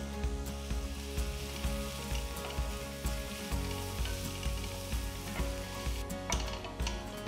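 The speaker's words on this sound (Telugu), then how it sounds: "తర్వాత ఇందులో చిన్నగా తరిగిన 2 మీడియం సైజ్ ఉల్లిపాయలు, చీల్చిన 2 పచ్చిమిరపకాయలు, కొన్ని కరివేపాకులు వేసి వేయించాలి" Chopped onions, slit green chillies and curry leaves fry in hot oil with whole spices for a vegetable kurma, a close, steady sizzle with soft stirring scrapes throughout and no voices.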